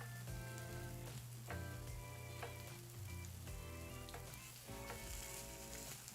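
Steady sizzling of takoyaki frying in a hot pan, a dense crackle throughout, heard close with faint clinks and background music.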